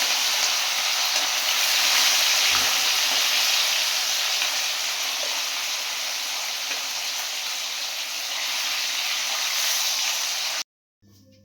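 Rohu fish frying in a pan of oil, a loud, even broadband hiss that holds steady and close for about ten seconds before cutting off abruptly.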